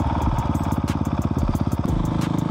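A Husqvarna 701 single-cylinder motorcycle with an Arrow exhaust thumps in a loud, close, rapid pulsing beat while gears are shifted, and its rhythm changes partway through.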